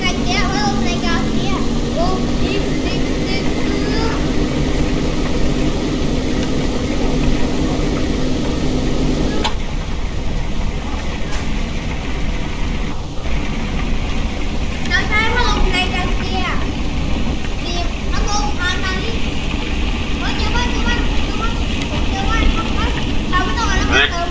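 A vehicle engine running in the Roblox game A Dusty Trip, a steady droning hum that carries on throughout, loud and close, with voices chatting over it.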